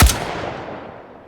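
Single loud gunshot on a virtual reality shooting range in the game H3VR, a sharp close crack followed by a long fading echo.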